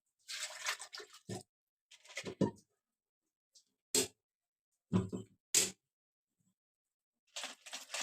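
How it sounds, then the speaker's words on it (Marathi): Water poured into a mixer jar of finely ground ration rice batter for soft ghavane, arriving in short splashy bursts separated by silent gaps, close by with no talk. "आता त्यात लागेल तसं पाणी ऍड करायचंय"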